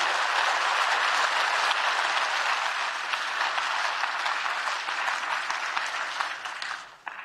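Audience at a speech by President Emmanuel Macron breaking into sustained, even applause, full and close, before it thins and fades out at the very end.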